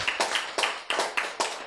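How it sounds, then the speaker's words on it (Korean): Audience at a Korean church lecture breaks into clapping, heard as about six loud bursts at a steady, rhythmic beat, close and prominent with no talk over it. "박수"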